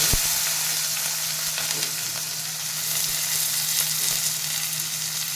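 Urad dal, cumin, mustard seeds, onion and green chilli fry together in oil for a radish leaf fry, a dense, even, close sizzle that stays loud and unbroken from start to finish.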